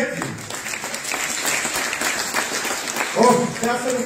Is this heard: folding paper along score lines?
no